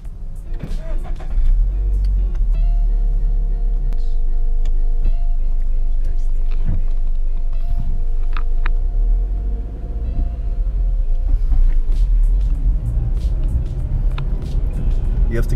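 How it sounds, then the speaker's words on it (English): A Subaru BRZ with a manual gearbox starting up and idling steadily, a loud low engine rumble running throughout with faint clicks and brief voices at the start. "start up the car"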